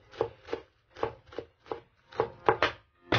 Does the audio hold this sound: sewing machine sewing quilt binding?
no